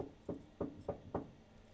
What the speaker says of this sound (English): Then he came back and knocked